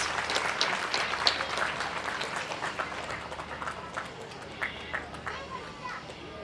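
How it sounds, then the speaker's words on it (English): A round of applause from a crowd of parents, children and staff at a school launch event, a steady, moderately distant patter of many hands with some children's voices and crowd noise mixed in, gradually thinning out. "A bigger round of applause, please."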